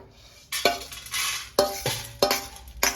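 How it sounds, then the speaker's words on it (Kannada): Millet grains and lentils dry-roasting in a pan rattle and scrape in repeated sharp strokes as a spoon pushes them around, about five distinct stirring bursts with dry grainy clatter between. "ಈ ರೀತಿ ಲೈಟಾಗಿ ಹುರ್ಕೊಂಡು"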